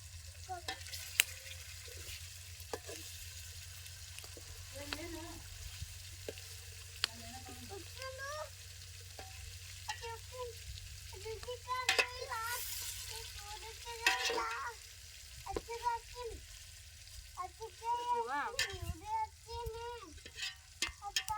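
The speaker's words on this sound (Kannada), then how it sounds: "ಸ್ವಲ್ಪ ಎಣ್ಣೆ ಒಳಗೆ ಫ್ರೈ ಮಾಡ್ಕೊಂಡು ತಗೊಳಮ್ರಿ" Lake fish fry in oil, with a faint, continuous sizzle under quiet background voices. Intermittent stirring and clattering and a low hum run through the sound.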